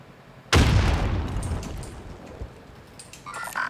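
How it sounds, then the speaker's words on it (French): A grenade explodes in a video game with a sudden loud boom, then a long rumbling decay fading over a few seconds, with faint game sounds after. "Grenade lancée."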